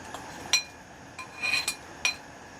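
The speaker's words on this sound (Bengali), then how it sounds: "চামচের সাহায্যে নেড়ে মিশিয়ে নিচ্ছি" A spoon stirs greens and dried fish in a pot, giving a few soft metallic clinks and light scrapes spread over a quiet background, close but faint, with no speech.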